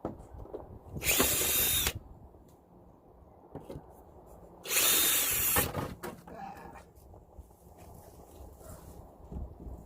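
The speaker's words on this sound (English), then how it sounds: "Me and drills don't always get along, but this screw's twisted, so I may just have to pull that one out." A power drill backs a twisted screw out of old weathered picket wood, two loud whirring bursts separated by quiet handling knocks and light clatter.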